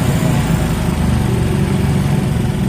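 A Honda Supra X 125 R motorcycle engine idles steadily nearby, a continuous low, even chug with no voices.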